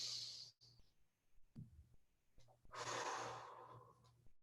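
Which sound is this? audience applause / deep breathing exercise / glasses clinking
deep breathing exercise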